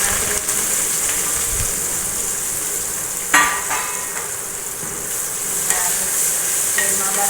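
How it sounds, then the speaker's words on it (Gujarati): Okra and dal sautéing in hot oil give a steady, close sizzle that runs the whole time, with a louder stirring scrape at about three seconds and a few lighter clinks later. "સાંકળી લઉં છું તેલમાં"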